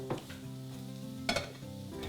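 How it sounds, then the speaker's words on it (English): Onions and garlic fry in a pan with a steady, close sizzle, broken by a few stirring scrapes and clinks, with no one talking. "While our onions and garlic are frying away"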